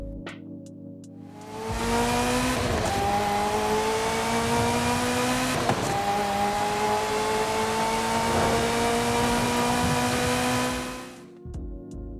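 A Bullitt movie car in Forza Horizon 5 roars under sustained acceleration for about nine seconds, its rising engine tone climbing steadily through gear changes, loud and close, with a brief shift break midway before fading at the end.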